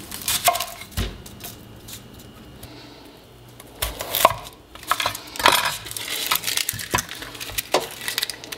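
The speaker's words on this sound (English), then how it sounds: "It's all done in a food processor" Half of a good-sized onion being chopped in a food processor: irregular clattering bursts and choppy thuds of blade and bowl, moderately loud and close, with no talking.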